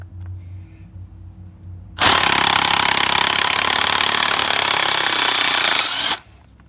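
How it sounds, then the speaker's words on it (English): An impact wrench hammers flywheel bolts off a turbocharged Lexus IS300 during a clutch upgrade, one loud, sustained rattling burst of about four seconds, close up, with quiet shop ambience before and after. "But a good impact wrench sure makes life easier."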